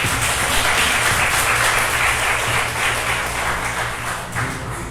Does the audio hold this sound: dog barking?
no